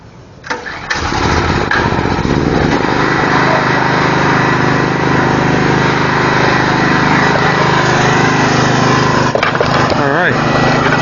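A generator engine used for welding cranks, catches and settles into a loud, steady running drone that continues close by for most of the clip, with a brief shift near the end.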